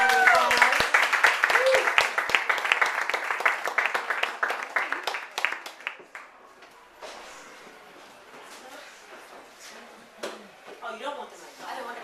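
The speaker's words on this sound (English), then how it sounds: "Give a round of applause." Audience applause at a Dublin event, dense clapping that starts strong and gradually thins out to scattered claps, with some voices talking underneath.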